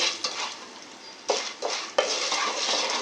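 Popcorn kernels stirred in a pot with salt and turmeric, giving a steady gritty rattle and scraping, with several sharper scrapes of the spoon against the pot.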